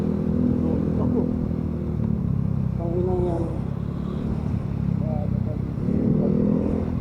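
A Suzuki RS125 motorcycle engine runs close by, holding a steady, rumbling drone with brief rises in pitch, while people talk over it.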